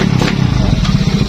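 Motorcycle with a 59 mm big-bore engine kit and a weak battery sputtering as it struggles to start, a loud uneven low chugging rumble close by.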